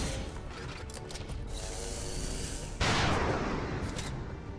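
Precision shot fired at a turret in XCOM 2 Long War of the Chosen, heard as a sharp loud burst of gunfire that cuts in partway through over steady mechanical game ambience and clicking.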